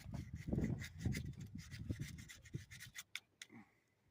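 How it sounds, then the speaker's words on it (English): Truck battery terminals being sanded by hand give soft, irregular up-and-down scraping rubs close by, quickening then thinning out toward the end. "Sand it up and down."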